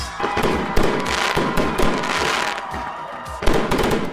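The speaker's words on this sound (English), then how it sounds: "set up an amazing fireworks show to accompany that reveal" A fireworks show accompanying a holiday house light reveal, with rapid loud crackling bursts and repeated sharp bangs in a dense, continuous barrage.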